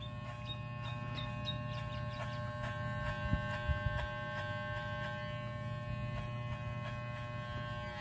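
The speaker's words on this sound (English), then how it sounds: "Then you open the clipper all the way, long as it can go" An electric hair clipper from Walmart hums with a steady close buzz during a skin fade haircut, with small clicks and brief rubbing as the blade moves over the head, and no talk.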